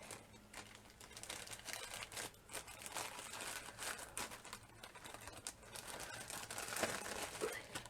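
A crinkly plastic bag rustles and crumples steadily as silk and crushed velvet fabric pieces are pushed into it, close and continuous, with faint voice in the background.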